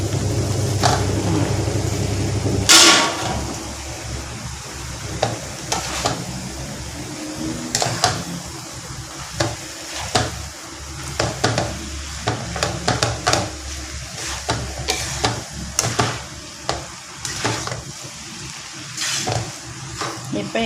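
Noodles hit a hot pan, starting with a loud sizzle and then turning into repeated scraping and tossing clatter with intermittent frying hiss as the stir-fry goes on.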